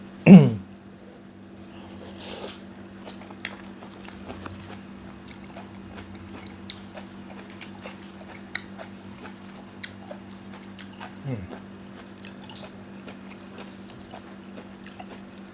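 Stir-fried Korat noodles, a pad thai–like dish, are being chewed and eaten, with soft, irregular mouth clicks and small bites repeating over a steady low hum, close and fairly quiet, with no talking.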